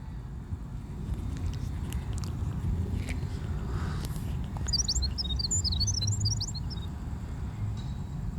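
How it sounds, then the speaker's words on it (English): A quick burst of bright bird chirps in the video game Fate/Grand Order rises over a low rumbling ambience, with faint footstep-like taps scattered through the background. "The birds are chirping merrily again today."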